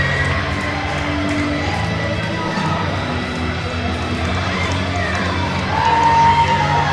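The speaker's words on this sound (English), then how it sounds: "And this crowd is electric there, Battle." A dense, steady roar of a wrestling crowd fills a gym at a Coastal Championship Wrestling show in Nashville, cheering continuously with a swell near the end, heard over a commentator speaking.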